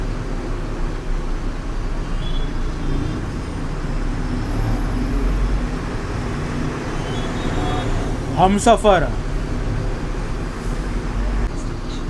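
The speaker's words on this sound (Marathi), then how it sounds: "बघा सगळे रंगबिरंगी गाड्या, भरपूर ट्रॅफिक लागलेली आहे" Road traffic in Mumbai is heard from inside a bus, a steady low rumble of engines and roadway noise with a brief louder passing sound near the end, and a voice speaks briefly.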